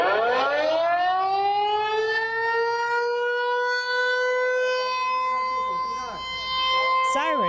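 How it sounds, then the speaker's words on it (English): An air raid siren sounds during the annual Wanan drill in Taipei, one long loud rising and sustained wail that dips slightly later, heard alone without talk. "Sirens went off at exactly 1:30 p.m. local time as the annual Wanan air raid drills kick off in Taipei."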